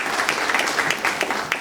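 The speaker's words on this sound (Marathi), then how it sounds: "एकदा त्यांच्यासाठी जोरदार टाळ्या." A brief burst of enthusiastic audience applause for the speakers at a public talk on Kashmir and Article 370, dense clapping from a crowd heard close and loud for under two seconds.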